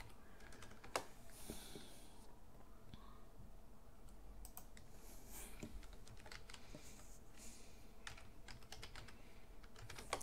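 Quiet, rapid clicking of computer keys in irregular bursts, close and soft, with short pauses between runs of typing.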